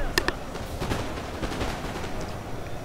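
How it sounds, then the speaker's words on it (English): Massed musket volleys crackle in Napoleon Total War, a dense spread of distant popping shots under steady battlefield noise, with two sharper reports near the start. "this guy's got a lot of units firing in"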